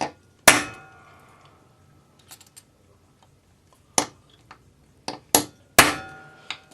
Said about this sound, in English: we're just going to put a punch mark where we're going to drill